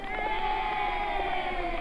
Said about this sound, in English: I've got all these sounds at my fingertips, like like this applause